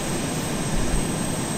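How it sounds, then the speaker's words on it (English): A steady, dense engine roar from an aircraft in the video game DayZ drones without pause, close and fairly loud, with a slight rumbling swell midway. "I turned the engine on by hitting Q."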